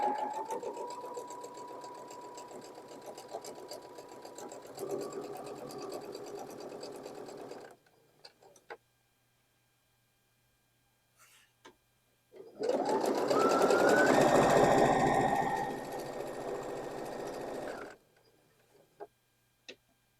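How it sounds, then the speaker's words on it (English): A domestic sewing machine stitches quilt blocks for four-patch squares in steady, close runs of whirring, with a long continuous burst after pauses, separated by near silence. "you don't want to go too slow with your sewing machine or too fast"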